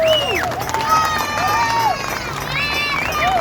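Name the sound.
protest crowd clapping and cheering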